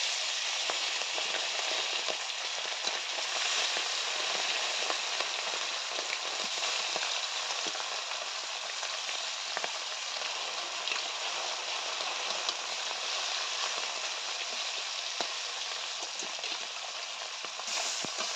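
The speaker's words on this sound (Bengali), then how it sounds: "এদিকে মাছ ভাজা হতে থাক" Puti fish frying in hot mustard oil, a steady dense sizzle and spatter that holds at an even level throughout, close and continuous with no talking.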